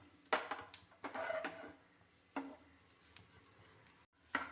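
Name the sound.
sautéing ginger, garlic and spices in hot oil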